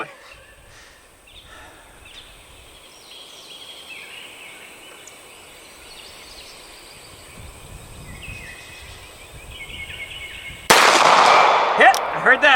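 A gunshot strikes a steel defense target torso with a sudden loud crack near the end, followed by a ringing metallic clang. Quiet outdoor ambience with faint birds comes before it.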